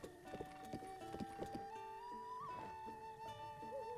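Horse hooves clip-clop in the video game Breath of the Wild, a quick run of distinct sharp clops in the first half, then fading into a steady sustained musical tone, moderately close.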